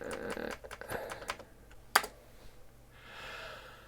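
Quick bursts of clacking keys on a Commodore 128 keyboard, several rapid taps early on and then a single sharp keystroke, close and fairly loud with a soft breath in between.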